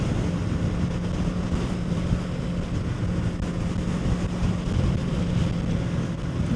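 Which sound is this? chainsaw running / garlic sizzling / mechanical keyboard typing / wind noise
wind noise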